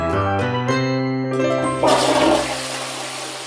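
A toilet flushes loudly, a rushing gush of water swelling partway through and then draining away, preceded by a bright tinkling jingle with no talking.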